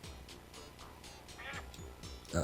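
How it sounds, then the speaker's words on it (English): Duck in the video game Dreams quacking a few times, soft and nasal over a low game background, with a louder honk near the end. "Go on, duck."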